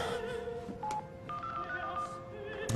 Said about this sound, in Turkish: Hadi dostum, aç telefonu.